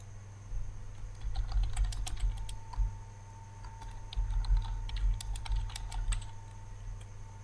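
Fingers type on a computer keyboard in quick bursts of close, crisp key clicks with short pauses between them, over a low steady hum. No one speaks.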